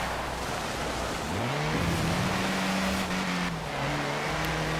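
A Willys Jeep engine in Forza Horizon 4 rises in pitch and holds a steady drone before easing off and picking up again, loud and close with no talk.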